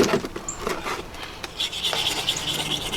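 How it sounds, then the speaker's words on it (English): Brake caliper sliders on a Chevrolet Suburban are scrubbed clean, giving steady close-up rubbing and rasping strokes that run through the whole stretch with no talking. "I'm just going to clean these sliders off and make sure that my brake pads slide nice"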